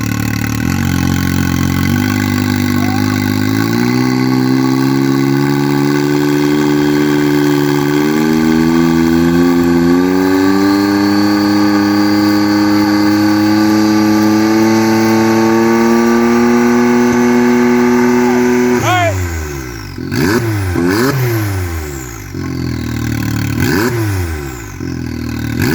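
Powersports engine with a cat delete and electronic dump valve opened, idling loudly before climbing through several rising revs, then snapping through quick sharp blips near the end.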